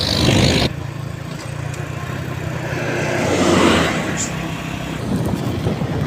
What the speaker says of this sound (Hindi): क्योंकि ट्रैफिक ज़्यादा है